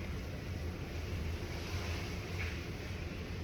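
Ocean waves wash steadily against a constant wind rumble near a swan out on the water, making a dense unbroken roar throughout, with no voices.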